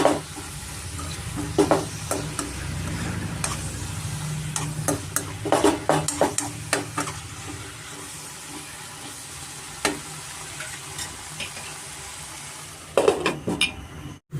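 Aloo methi curry, potatoes with fenugreek leaves, fries in a pan with a steady close sizzle while a spoon scrapes and stirs in irregular bursts. A sharper clatter of the pan comes near the end.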